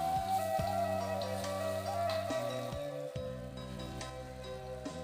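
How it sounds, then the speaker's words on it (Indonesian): Ground red chili paste fries in a pan for a balado sauce, giving a steady crackling sizzle that runs throughout beneath sustained background music. "Kita goreng lado ko sampai masak atau sampai matang."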